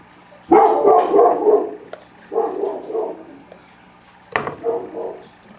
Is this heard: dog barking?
yes